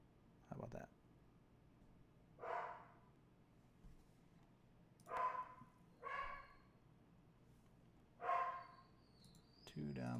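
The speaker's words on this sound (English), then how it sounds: "The dog is excited." A pet dog at home barks excitedly in four separate bursts spread across the stretch, fairly distant and moderate in volume, with quiet room tone between barks.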